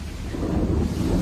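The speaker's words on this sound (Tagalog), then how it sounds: "Umuulan, no?" Heavy rain pours steadily with a deep rumble of thunder rolling beneath it, a dense, loud wash of storm noise with no voices.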